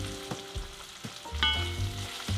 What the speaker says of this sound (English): Continue to cook the shiitakes until they become a light golden brown and slightly crisp along the edges.